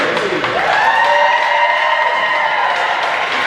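A hockey rink crowd applauds and cheers the Minnesota Generals, AAA state champions, with loud, continuous clapping and a sustained horn-like tone ringing over it.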